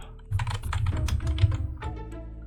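Computer keyboard typing while playing Age of Empires Gold: a quick, close burst of clattering keystrokes that starts after a short pause and tapers off near the end, with no voices.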